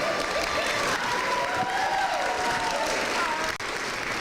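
Applause at a university honors convocation, a steady broadband patter of many hands filling a large hall, with a faint voice or two murmuring underneath throughout.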